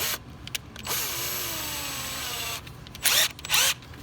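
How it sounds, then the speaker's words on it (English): A power drill whirs loudly and steadily close by for a couple of seconds during Ford 6.0 Powerstroke fuel injector work, pitch sliding as it winds down, followed by two short bursts of drilling. "I'll use a drill for all of it."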